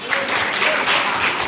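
A church congregation clapping loudly, dense sustained applause from many hands close by, with faint voices mixed in.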